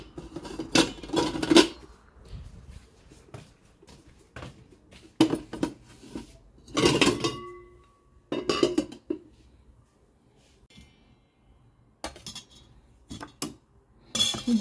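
Pots, dishes and cutlery being washed in a home kitchen, with intermittent clattering, clinking metal and splashing in short bursts separated by quiet pauses, close by.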